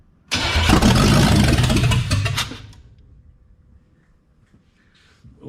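A 454 engine with a timing problem cranks and fires into a loud, rough run for about two seconds, then sputters and dies away, leaving quiet.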